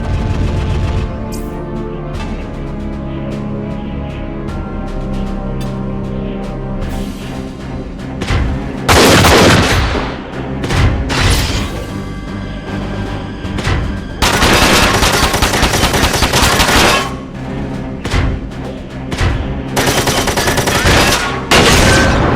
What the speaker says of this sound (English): Do another airstrike, but only get 2.